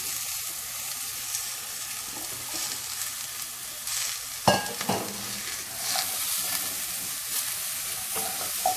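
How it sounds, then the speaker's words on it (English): Mirlitons (chayote) fry in a pan with garlic and coconut, producing a constant close sizzle with a burst of louder hissing and clatter as pieces are stirred midway. "Okay, I'm gonna add this Mirlitons in there."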